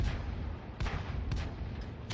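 Tank cannon fire in World of Tanks Blitz, booming low shots over a steady rumble of engine noise, with a couple of heavy blasts spaced about half a second apart.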